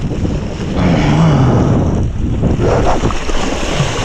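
Strong wind roars over the ocean during a kitesurfing session, with loud, constant buffeting on the microphone and the rush of surf underneath.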